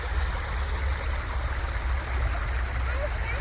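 A river stream flows with a steady, close rushing and gurgling wash of water, unbroken for the whole short stretch.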